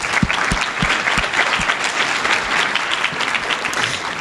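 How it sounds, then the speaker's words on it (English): A conference audience gives a sustained round of applause, dense steady clapping from many hands filling the room throughout, with no voices standing out. "I want you guys to give yourselves a round of applause for that."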